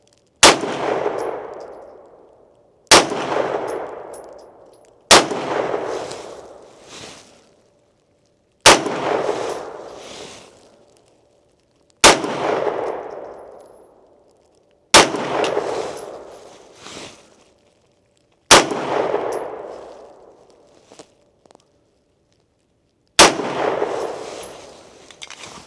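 Eight single gunshots from a Beretta M9A1 pistol and S&W M&P10 rifle at practice, each a sharp loud crack with a long ringing decay, spaced a few seconds apart with quiet gaps between.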